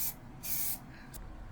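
Second, slightly thicker coat of spray paint applied through a traced stencil, heard as three short hissing aerosol bursts, the middle one longest, fairly close and quiet with no talk.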